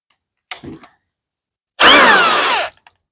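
A power drill bores a hole in wood, first a brief short burst, then a loud, near, sustained whirring run of about a second that stops abruptly.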